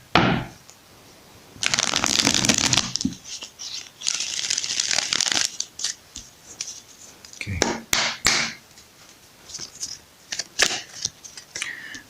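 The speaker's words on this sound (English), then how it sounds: "Okay, let's shuffle." An oracle or tarot card deck is shuffled by hand, giving bursts of riffling and papery scraping with taps and pauses between them, close and moderately loud.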